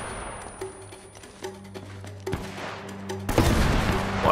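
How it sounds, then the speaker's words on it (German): Grenade launcher explosions and gunfire in Uncharted, with sharp cracks and a rapid burst of shots, then a loud broad blast toward the end. "Schmeißt einer mit einem Granatwerfer um sich."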